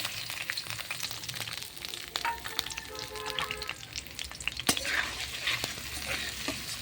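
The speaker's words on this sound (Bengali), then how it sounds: "পেঁয়াজ রসুনটি ভালোভাবে ভেজে নেব।" Onion and garlic sizzle steadily in hot oil in a wok, with a spatula stirring and scraping now and then, close and fairly quiet with no talk.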